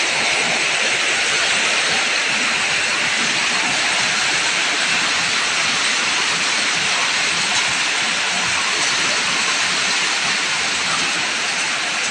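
Heavy rain pours down at night in a steady, dense hiss that stays loud and unbroken throughout, with no voices over it.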